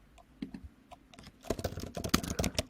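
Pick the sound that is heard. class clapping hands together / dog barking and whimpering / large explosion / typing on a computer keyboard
typing on a computer keyboard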